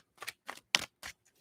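Tarot cards shuffled by hand, about four quick riffling bursts in an uneven rhythm, close and crisp with no talk.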